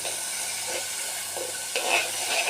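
Ginger, garlic and green chilli fry in a pan for amla pickle, giving a steady close sizzling hiss that swells slightly toward the end.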